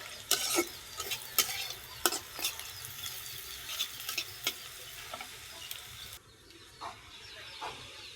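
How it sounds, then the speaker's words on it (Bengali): Onions fry in a pan over a clay stove, the spatula scraping and stirring in repeated sharp strokes over a steady, fairly quiet sizzle, with no voices. "তো পেঁয়াজটা ভাজা হয়ে গেছে"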